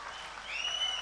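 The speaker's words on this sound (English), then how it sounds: "Let's give a big applause to the women engineers of the world." Audience applause at a graduation day ceremony, a short burst of clapping that swells toward the end, with a faint high tone running through it.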